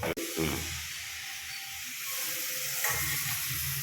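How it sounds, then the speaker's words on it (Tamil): Tamarind water poured into a hot pan of gourd gravy sizzles with a steady, broad hiss that fills the clip, briefly dipping near the start and swelling again toward the end, with no voices over it. "இப்போ கரைச்சி வச்சு புளி தண்ணியும் ஊற்றணும்."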